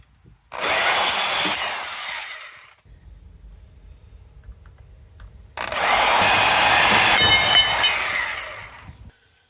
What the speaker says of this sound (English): That saw is far superior to holding on to a sawzall or a jigsaw.